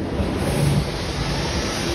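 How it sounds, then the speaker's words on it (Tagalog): Strong wind blowing outdoors makes a steady, loud broadband roar and buffets the microphone throughout, with no voices. "Kasi nga, oh, grabe yung hangin."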